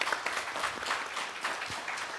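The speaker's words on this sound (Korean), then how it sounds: "격려의 박수를 한번 보내주시면 고맙겠습니다." A conference audience gives brief, moderately dense applause, a soft, even patter of many hands heard from a distance, with no talking.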